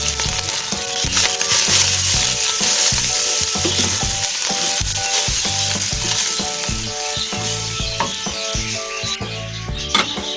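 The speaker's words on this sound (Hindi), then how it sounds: "अब इसमें हम चिकन डाल देंगे जो हमने बॉईल करके रेज़ा रेज़ा करके रखे हुए।" Boiled, shredded chicken hits a hot pan with a loud, close sizzle that keeps hissing steadily, with rhythmic stirring and scraping running under it for about ten seconds.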